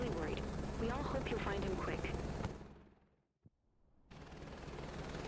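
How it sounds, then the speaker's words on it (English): A helicopter in Microsoft Flight Simulator 2024 drones steadily under a talking voice, drops away to near silence for about a second and a half, then its hum returns. "I like my little tank of a helicopter here"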